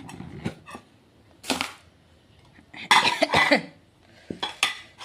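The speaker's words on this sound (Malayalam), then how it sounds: "ഒരു ജലദോഷം വന്ന് ചുമ വന്നതാണ്" A couple of short, harsh coughs from a cold stand out against faint kitchen clatter and clinking dishes in a quiet room.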